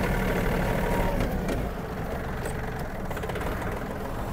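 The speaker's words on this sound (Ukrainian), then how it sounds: "Комфортно трактор розганяється. Тяга двигуна відчувається." Yanmar RS-27 mini tractor engine running while driving, a steady low rumbling drone with a rough mechanical texture, loud and close, slightly dropping in level partway through.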